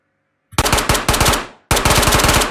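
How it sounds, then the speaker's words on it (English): An MP5 submachine gun fires in a Minecraft VR mod game: two loud, close, rapid automatic bursts, the first longer with a brief stutter, then a short pause before the second burst. "This is the SMG station. Please pick up the SMG using your grip. This is the MP5."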